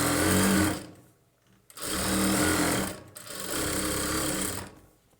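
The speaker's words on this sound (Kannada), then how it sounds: "ಈ 1/2 ಇಂಚ್ ಮಾರ್ಜಿನ್ಗೆ ಸ್ಟ್ರೈಟಾಗಿ ಒಂದು ಹೊಲಿಗೆನ ಹಾಕ್ಕೊಳ್ಬೇಕು" A sewing machine runs in three bursts of rapid stitching along a straight seam on a boat neck blouse, with short pauses between runs, close and clear.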